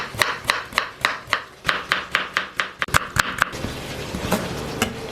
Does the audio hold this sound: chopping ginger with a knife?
yes